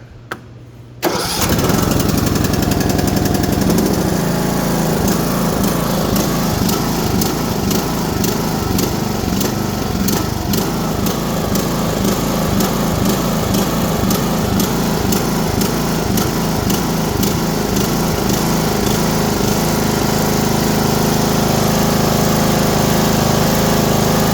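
A lawn tractor engine with a freshly cleaned carburetor, blades off and safeties bypassed, cranks briefly, catches and then runs loud and steady with a rapid rhythmic chug close by for over twenty seconds, no voices.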